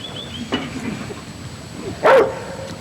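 Catahoula leopard dogs working cattle give out a couple of sharp barks or bays, one brief and one louder near the end, over steady outdoor background noise.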